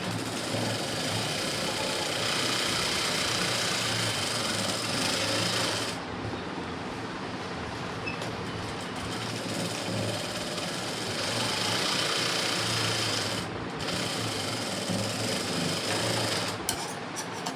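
A sewing machine stitches an embroidered blouse, running in a loud, steady mechanical whir close by for long stretches with a few brief pauses, no talking.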